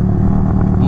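A Motorstar Z200 sportbike's exhaust pipe drones loud and close in a short, steady burst with a dense low rumble.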